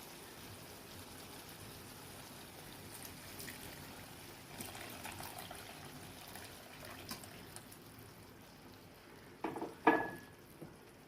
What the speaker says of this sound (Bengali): এবার আমি একটু সামান্য জল দিয়ে দেবো, বেশি জল দেবো না, সামান্য জল দেবো।